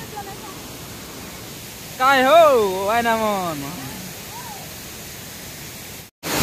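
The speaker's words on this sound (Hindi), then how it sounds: "इधर में रानी डुडुमा का जोरना पर्वत है" Rani Duduma waterfall in the Koraput hills, a steady broadband rushing roar that runs through the whole stretch while someone talks loudly over it for a couple of seconds.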